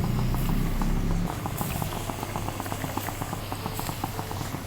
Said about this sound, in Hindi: ऑयल पैन में मैंने गरम करने के लिए रखा है गुजिया फ्राई करने के लिए